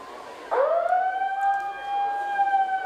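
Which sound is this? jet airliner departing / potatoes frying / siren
siren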